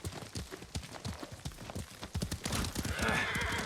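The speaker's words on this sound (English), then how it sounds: "Lord Sakai taught me to ride a horse" Horse in Ghost of Tsushima trotting with a rhythmic clip-clop of hooves, then a loud whinny that rises over the hoofbeats near the end.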